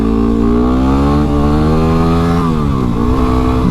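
A 2017 Yamaha WR250 dirt bike engine runs loud and close, holding a steady buzzing idle with slight pitch dips and rises toward the end, with no voices.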